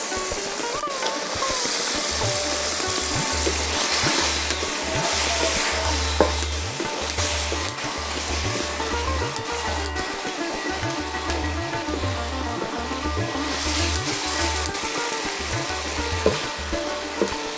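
Hilsa fish pieces hitting hot oil and well-cooked spices in a pan, giving a steady crackling sizzle with stirring scrapes over a low constant hum, close and continuous.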